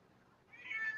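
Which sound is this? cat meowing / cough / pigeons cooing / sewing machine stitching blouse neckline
cat meowing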